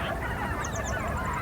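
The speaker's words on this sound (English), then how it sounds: "There were plenty of geese there too" Canada geese honking outdoors by a shore in autumn, several faint repeated calls rising over a steady, noisy wash of ambient sound.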